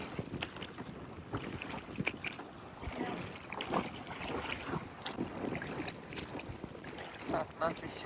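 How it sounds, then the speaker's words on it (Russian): Steady wind gusting over open water on the Ukhta River during a rafting trip, a broad rushing roar with faint splashes and occasional voices mixed in. "Ого, какой тут ветер поднимается, да?"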